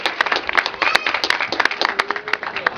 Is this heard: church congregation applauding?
yes